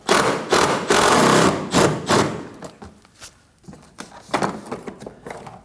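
A socket wrench ratchets out a 10mm bolt behind the fender liner of a 2011-2016 Kia Optima during windshield washer reservoir removal, giving close, loud bursts of rapid clicking and scraping that come in uneven spurts and then taper into lighter taps.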